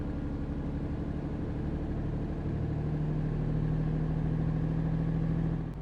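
Steady engine drone of a Tourismo 16 RHD coach in Euro Truck Simulator 2, loud and continuous, with a rising tone partway through as the bus accelerates along the road.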